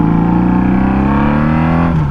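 A Honda Magna motorcycle revs hard while its back tire spins during a wheelie attempt: a loud, close, sustained engine drone that climbs slowly in pitch, then drops off abruptly near the end.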